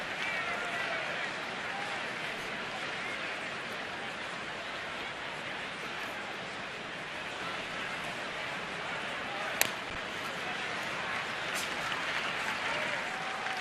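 A baseball stadium crowd during an Atlanta at Washington game keeps up a steady, broad roar of cheering and applause across the whole stretch, with one sharp crack near the end rising above the din.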